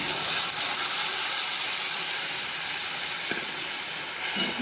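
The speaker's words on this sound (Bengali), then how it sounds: "তো এটা ভাজা ভাজা হয়ে যাওয়ার পর এবার মশলাটা দিয়ে দিচ্ছি।" Ground coriander and cumin paste sizzling in hot oil in a kadai already tempered with a bay leaf, dried chilli and five-spice, making a steady, loud, continuous hiss with no talk.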